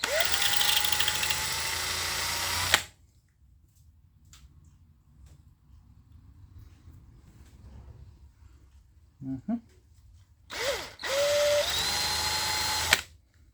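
A drill bit bores into a hard steel roll pin during an Airco welder repair: a loud, steady high-pitched drilling whine, a quiet gap with faint handling noises, then the drill whines up again briefly.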